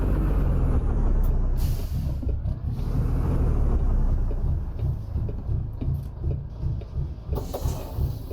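Semi-truck trailer being dropped in American Truck Simulator, with a sharp air-brake hiss and clunk over a steady low engine rumble, followed by further hisses and mechanical knocks.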